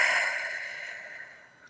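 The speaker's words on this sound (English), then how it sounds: "Keep that deep breathing." Slow, deep breath exhaled steadily during guided meditation, a soft breathy rush that starts strongest and fades gradually over under two seconds, close and alone with no talk.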